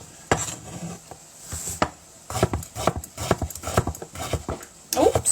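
A big chopper knocks against a chopping board while fish soup (fiskisúpa) is prepared, giving irregular sharp close thuds in quick bursts, with a soft voice in the background.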